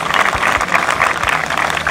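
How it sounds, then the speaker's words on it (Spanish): Steady applause from a crowd at a military mountain brigade training demonstration in San Marcos, dense continuous clapping throughout. "Aplausos, por favor."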